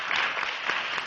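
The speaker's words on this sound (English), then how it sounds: "Let's give her a big round of applause." A pageant audience at a Q&A session gives a contestant a short burst of steady, close-sounding applause that fades out after about a second.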